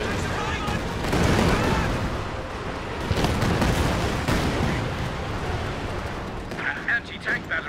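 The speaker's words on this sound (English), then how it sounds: "That's a Katusha." Katyusha rocket artillery fires in Company of Heroes 2 with a dense rumbling barrage of whooshing launches and blasts, loud and sustained through the whole stretch, followed by scattered sharper impacts near the end.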